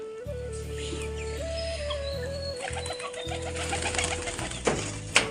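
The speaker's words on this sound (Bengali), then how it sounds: "এটা মাথা সাদা কবুতর" Low, soft cooing of pigeons beneath steady background hum, with faint chirps and a few clattering knocks toward the end.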